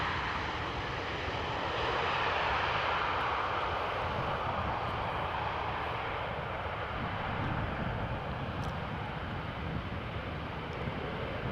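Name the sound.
EasyJet Airbus A320 jet landing and rolling on runway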